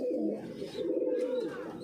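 Pigeons kept at a home loft coo nearby in low, throaty, rolling calls that carry on without a break, fairly quiet and with no speech.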